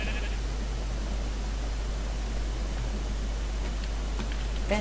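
A sheep in Minecraft gives a short bleat near the start, then the scene goes quiet apart from a steady low hum and faint ticks, with a brief blip at the end.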